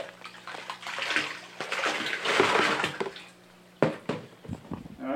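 Salt solution pours and splashes into a small amount of aquarium water for an ich salt dip, with a continuous watery rush broken by short gaps and a final few sloshes and drips.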